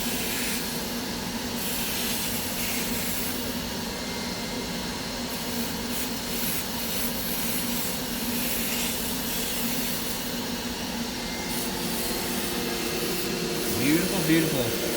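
Aqua Pro Vac carpet extractor making a dry pass over carpet, its motor a steady loud whooshing roar that runs unbroken throughout, with a few faint knocks near the end.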